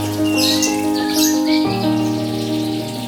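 Many caged birds in a home aviary by the front of a house, a dense mix of squawks and chirps layered over a steady pitched hum, continuous and fairly loud throughout.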